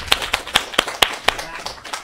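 A small lecture audience at a university database systems class claps for a DJ, with a handful of distinct, sharp claps spaced irregularly and fading into a sparse patter.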